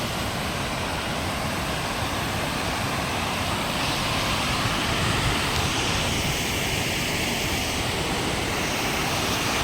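Dev Ghat waterfall at Umarpada near Surat, water tumbling and flowing in a broad, constant rushing hiss that stays even and unbroken throughout, fairly close and steady.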